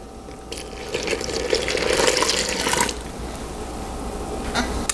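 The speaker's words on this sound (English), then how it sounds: "so we're going to pour 3 cups in here" Liquid poured into a mixing bowl for seitan dough, a splashing, gurgling pour that swells for about two seconds and then tapers off, fairly close.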